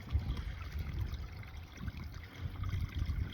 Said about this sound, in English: we've cut the pipe across there, just turn the elbow over, and that's the rainwater coming out